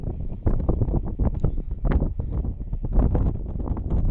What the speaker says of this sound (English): I feel now wind picking up again